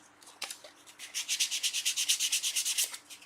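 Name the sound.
sanding the furry end grain of a wooden box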